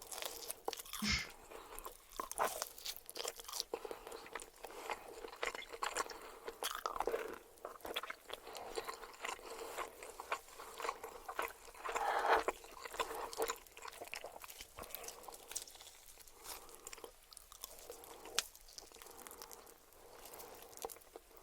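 Loud, close crunching as crispy food is bitten and chewed repeatedly in a rapid, irregular rhythm throughout, with no speech.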